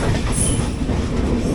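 An express train rolls over points onto a loop line, with heavy rumbling wheels, a brief high wheel squeal and clattering rail noise close by, with no talk.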